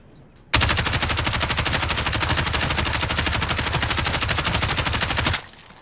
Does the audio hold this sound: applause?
no